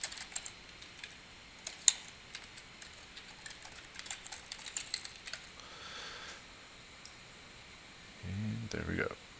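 Keys clatter on a computer keyboard in quick, light bursts, fairly faint over a low room hiss, with a brief louder strike of a key and a short pause before a different rustle near the end.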